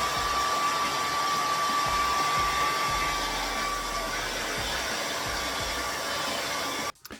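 A hand-held blow dryer blasts a steady, loud whoosh to loosen the stiff joints of a Super7 Ultimates Bluegrass SilverHawks action figure, running evenly for about seven seconds before cutting off abruptly.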